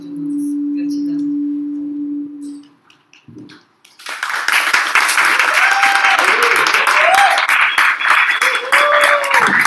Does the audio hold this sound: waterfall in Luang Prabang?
no